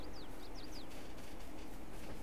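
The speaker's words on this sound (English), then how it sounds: "Oh, folks, there is the train." A train rolls past in Farming Simulator 22 as a steady, low rumbling drone that holds at moderate loudness. A few quick bird chirps ring out near the start.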